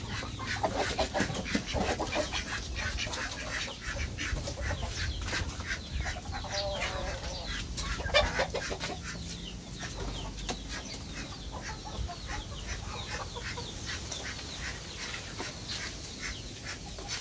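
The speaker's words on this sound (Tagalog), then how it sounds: "Marami din akong manok." Chickens cluck and chatter continuously at close range, with a rooster-like call standing out around the middle, over a steady outdoor farmyard background.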